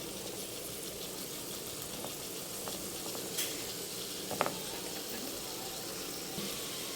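Baati pieces roast in plenty of ghee in a pan, giving a steady, moderate sizzle throughout with a few faint clinks and scrapes from handling.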